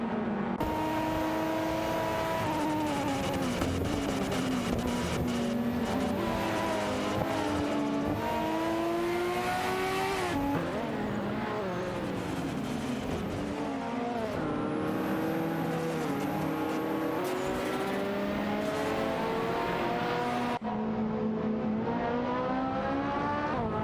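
Racing cars including Nissan Skyline GTRs and a Ferrari jostle for position in a simulated race, engines droning and rising in pitch through repeated gear changes, a continuous dense mix of several cars with occasional passes, no voices.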